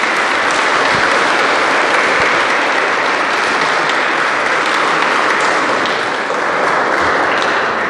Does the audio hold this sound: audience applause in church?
yes